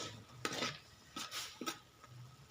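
Ingredients stir-fried in a pan on a rainy morning, with dishes like fish laab and pork being cooked: three or four quiet scraping, clinking strokes of a utensil against the pan, spaced apart over faint background hum, without speech.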